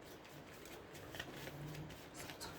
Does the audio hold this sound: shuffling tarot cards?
yes